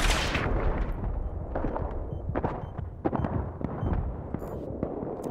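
Weapon fire in Battlefield 3's Close Quarters maps, Operation 925, starts with a loud blast, then continues as a string of irregular close gunshots and sharp cracks over a rumbling background of distant combat.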